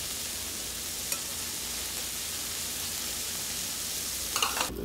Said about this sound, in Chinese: 猪脚肉在烤盘上滋滋作响